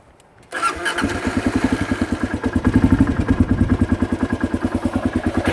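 A 2007 Kawasaki KLR650 motorcycle engine cranks briefly, catches and settles into a steady, loud, close-up idle with a rapid, even thumping pulse.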